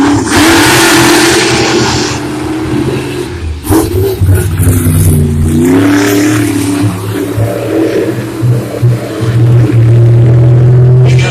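Monster trucks racing head to head in a semifinal or final round, engines roaring loud and close with continuous revving and rising, falling pitch, no voices over the engines.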